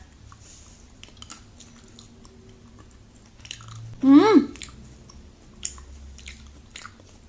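Someone chews Harry Potter candy, a sour sweet that turns papery, with soft, quiet mouth sounds close up and a brief louder vocal murmur in the middle.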